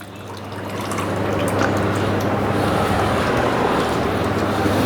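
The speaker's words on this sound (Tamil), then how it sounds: "அந்த 4 லிட்டர் பாலையும் ஊற்றிக்கலாம்." Four litres of milk pours steadily into a pot of shatavari root and juice being cooked into a medicated ghee, a continuous rushing liquid wash over a low hum, rising slightly after the start and holding even.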